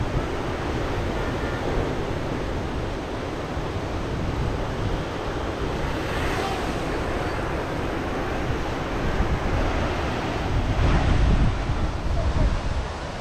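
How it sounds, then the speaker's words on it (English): Strong wind roars steadily against the microphone of a flying drone, a dense, continuous rumble that swells slightly near the end. "So you see it's so damn windy."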